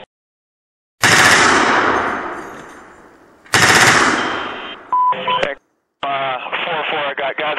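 A machine gun on an external gun mount fires two long, loud sustained bursts that trail off, then comes a short clipped radio call with a beep and more radio chatter.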